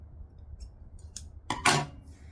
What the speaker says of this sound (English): I'm going to just square it up with some scissors